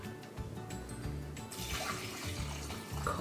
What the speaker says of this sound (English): And now that that is in there, we're gonna add water.